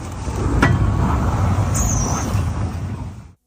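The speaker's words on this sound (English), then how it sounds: "The vehicle began moving around the perimeter of the campsite in a way that raised real concern." A vehicle drives slowly around the edge of a campsite at night, its engine a steady low rumble with road noise, loud and close, a brief hiss partway through, fading out at the end.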